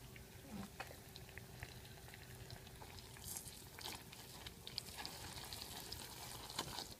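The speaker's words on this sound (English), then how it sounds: "So I've been stirring this for a long while after I added the heavy whipping cream" Caramel sauce with heavy whipping cream bubbles softly in a pan on a stove, giving a faint steady sizzle and simmer with light scraping clicks of stirring, no voices present.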